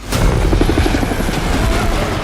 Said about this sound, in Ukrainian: Ти вкрав гелікоптер!